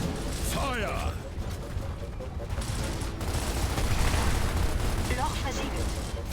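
Rapid gunfire and mechanical clatter from the Gears of War video game, dense and continuous with bursts of shots and game voices over a noisy battle backdrop.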